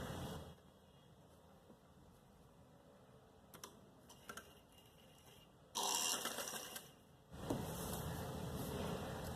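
A sewing machine stitches down a folded trouser hem with quiet, rapid mechanical ticking that swells into two louder bursts of running near the end. No one speaks.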